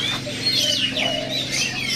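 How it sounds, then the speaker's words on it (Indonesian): An oriental magpie-robin whistles bright, sweeping phrases over a low steady background hum, close and clear for a couple of seconds. "selanjutnya kita akan review burung murai non gembungnya"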